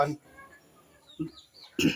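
Backyard chickens waiting to be fed after heavy overnight rain give short, soft clucks, a few brief calls spaced out over faint background noise.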